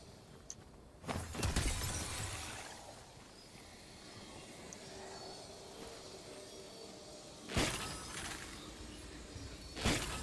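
Loud shattering crashes of rocks being broken apart in Fortnite, with a big burst early on, another near the end and a short crack at the very end, separated by a quieter stretch of game ambience.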